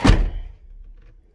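One heavy, solid thunk of a 1998 K1500 pickup truck door shutting nearby, followed by a brief low rumble fading into quiet.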